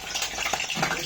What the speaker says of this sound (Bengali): এই যে পেঁয়াজ, রসুন, কাঁচা লঙ্কা, টমেটো, এটা একটুখানি ভেজে নেবো হালকা করে